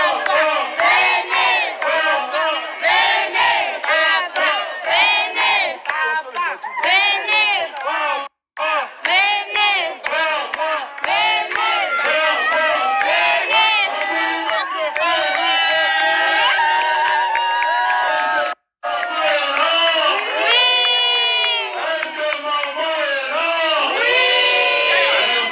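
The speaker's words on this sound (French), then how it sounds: "On voit les enfants en train aussi de crier, de parler" Children at a birthday party for a singer's son shout, cheer and talk excitedly as a loud, dense crowd throughout, with two brief drops in the din.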